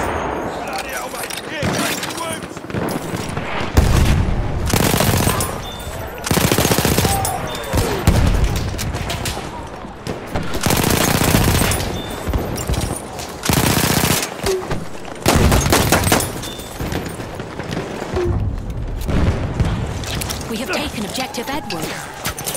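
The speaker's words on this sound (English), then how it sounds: "Machine gun over there!" Loud, repeated bursts of machine gun fire in the World War I shooter game Battlefield 1, separated by short pauses and overlapped by shouted voices.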